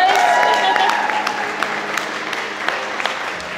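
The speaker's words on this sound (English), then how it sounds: "Give them a big round of applause." Wedding guests in a room clap warmly, the applause loudest at first and then gradually thinning out into scattered claps.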